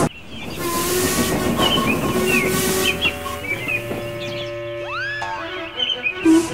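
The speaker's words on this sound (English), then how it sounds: "interrupted by a booming whistle in the distance" A steam locomotive whistle sounds, with rumbling train noise and hissing steam beneath; the whistle's pitch bends upward near the end.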